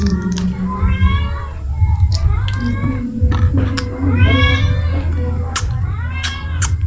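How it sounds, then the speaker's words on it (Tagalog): A cat meows repeatedly, begging for food near someone eating at a seafood market by a fish port, its drawn-out calls rising over steady background hum and low chatter. "Oh, nangihingi yung pusa."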